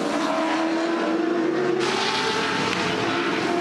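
V8 Touring Car Masters race cars thundering around Bathurst, a steady loud engine roar from a pack of cars with a sharp change in tone midway as they pass.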